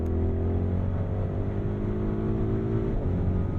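Audi RSQ8 or BMW XM performance SUV engine droning steadily while driving, a smooth, subdued low hum with continuous road rumble, no talk over it.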